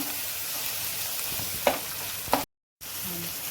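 Onion, green chili and tomato pulp frying in a pan for a buttermilk rasam, a steady soft sizzle with two brief stirring clinks and a short dropout near the end.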